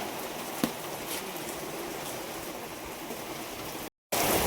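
Rain falling in a dense forest near Chitrakoot, a steady close hiss of downpour with one sharp tap early on and a brief dropout near the end before the rain resumes.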